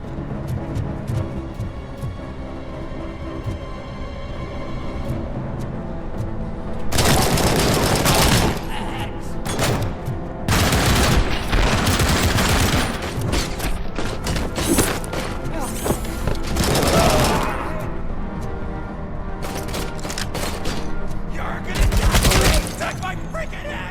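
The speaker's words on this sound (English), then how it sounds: "Love this heavy machine gun." A heavy machine gun in the video game Robocop Rogue City, rattling out several long, loud sustained bursts separated by short pauses, with scattered impacts and occasional talk between volleys.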